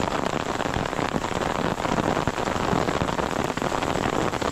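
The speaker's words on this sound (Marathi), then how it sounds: "जोरात पाऊस पण आलाय." Heavy monsoon rain beats down on a paddy field in the Konkan countryside, a steady, loud, close hiss of drops drumming on surfaces throughout, with no talking.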